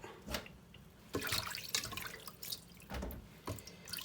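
Rice being washed under a running kitchen tap, water splashing and dripping in uneven bursts with brief louder gushes, close and alone without talk.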